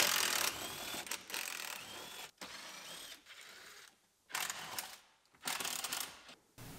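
Close mechanical clicks and ratcheting bursts come in short spurts separated by brief pauses as an airbag and dash pad are unbolted from a 2015 Chevrolet Silverado cab, with no talking.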